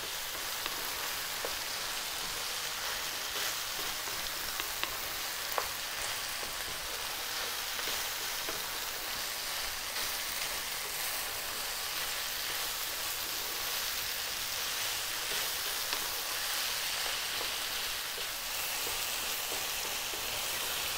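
Mushrooms frying in a pan over above-medium heat, a steady, even sizzle with fine crackling pops that holds at the same level throughout, with no talking.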